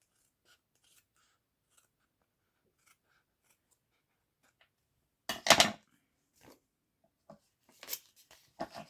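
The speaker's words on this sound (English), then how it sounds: "I need sharp scissors for this." Sharp scissors trim loose threads and edges from a stitched collage envelope: a quiet stretch, then a close burst of crisp snipping followed by a few short cuts.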